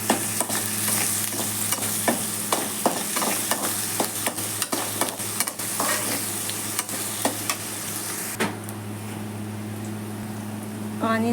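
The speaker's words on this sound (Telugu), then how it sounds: "ఆనియన్స్ ఇప్పుడు ఫ్రై అయిపోయాయండి." Onions sizzle steadily in a pan with salt added, with frequent sharp scraping and stirring clicks over a constant frying hiss, for a guthi vankaya curry.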